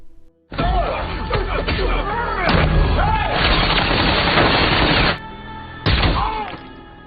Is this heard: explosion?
yes